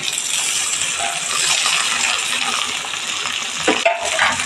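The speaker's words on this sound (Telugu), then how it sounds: "అల్లం పేస్ట్ పచ్చివాసన పోయిన తర్వాత టమాటా ముక్కలు వేసుకున్నాం" Tomato pieces and ginger paste fry steadily in a pan for a village-style chicken fry, giving a loud, continuous sizzle with a brief clink near the end and no talking.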